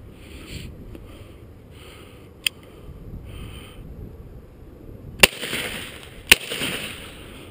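During a dove hunt, three sharp shotgun blasts crack out at irregular intervals, one lighter and two louder ones close together, over a faint outdoor background.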